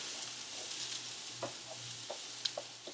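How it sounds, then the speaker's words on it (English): Quiet, steady sizzle of vegetables frying in a pan, with occasional soft scrapes and clicks from stirring. "right now I'm just frying up those vegetables"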